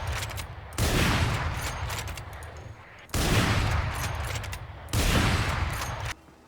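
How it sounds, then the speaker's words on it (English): A heavy sniper rifle in Valorant fires three booming shots about two seconds apart, each loud and close, with a long rumbling tail and no talking. "It's a bulky sniper like it would be in any other game."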